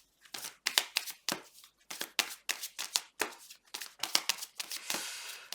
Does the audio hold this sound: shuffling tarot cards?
yes